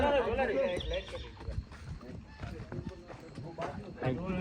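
A horse whinnies with a wavering, rising-and-falling call, then hoof thuds and shuffling follow amid nearby chatter.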